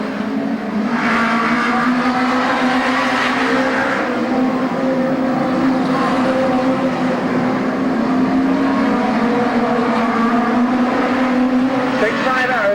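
Several National Hot Rod racing cars roar continuously around the Arena Essex track, engines droning steadily and loud with pitch rising and falling, while a commentator talks over them.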